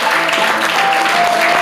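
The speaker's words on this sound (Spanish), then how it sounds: "Denle ese aplauso fuerte al Señor" Congregation applause in a church service, loud and continuous, dense close clapping from a crowd filling a brief stretch with faint voices mixed in.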